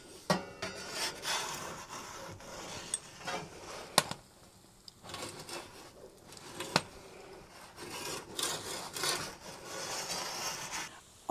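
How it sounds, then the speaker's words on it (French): Metal pizza peel scraping and sliding on the stone floor of a Glowen Raptor pizza oven while a pizza is turned, giving irregular rasping bursts with a few sharp clanks and short quiet gaps. "On prend la petite pelle."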